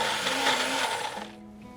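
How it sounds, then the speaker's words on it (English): A kitchen blender whirs at high speed, pureeing pesto with olive oil, a steady loud close-up roar for over a second before it winds down and cuts off. "Okay, let's blend this up."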